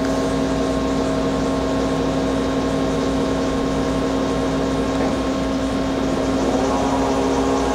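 A Doosan Puma V-550 vertical turning center spindle turns at about 300 RPM in high range, a steady mechanical drone with a constant tonal hum, close and loud, and no talking.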